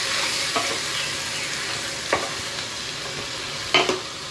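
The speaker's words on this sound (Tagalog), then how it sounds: "Haluin lang natin." Chicken sinigang stirred in a pot: a few scattered scrapes and clinks of a spoon over a steady simmering hiss, with one sharper knock near the end.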